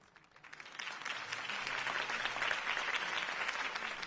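Crowd applause rises and holds steady after a mayoral campaign speech in Gotham, a dense, continuous wash of clapping from a large audience.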